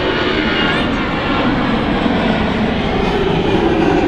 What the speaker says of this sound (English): Classic CFM 56 engines there. Just tell by a very distinct sound.